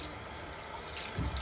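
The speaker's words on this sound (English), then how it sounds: "wet it with some running water." Running tap water splashes steadily onto a towel being wetted for cleaning Adidas Ultraboost shoes, a continuous close, moderately loud rushing stream.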